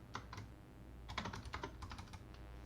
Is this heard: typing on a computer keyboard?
yes